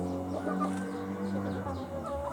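Roosters and hens being readied for travel cluck and murmur close by, short throaty calls overlapping in an uneven rhythm against a low background hum.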